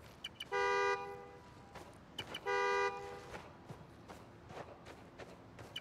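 A car horn in the Spider-Man: Miles Morales video game blares twice from a key fob, two sustained honks a little apart, followed by light footsteps and game ambience.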